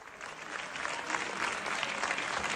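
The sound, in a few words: applause in French National Assembly after vote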